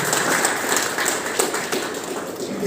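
Audience applause at a medal ceremony, a dense, steady wash of many hands clapping close by that keeps going for the whole stretch with a few sharper claps standing out.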